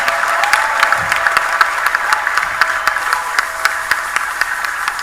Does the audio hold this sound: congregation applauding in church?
yes